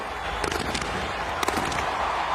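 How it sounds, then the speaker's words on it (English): Fireworks crackle above a cricket ground during a South Africa versus England match. Several quick snapping bursts stand out over a dense, roaring crowd-like wash, and no one speaks. "Fireworks are up there."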